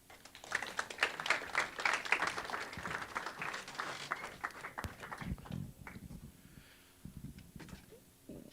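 An audience applauds at a startup accelerator demo day, a dense patter of clapping that swells and then thins out into scattered claps and murmurs.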